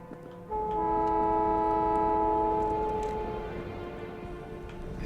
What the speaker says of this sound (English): There's a carbon train right there.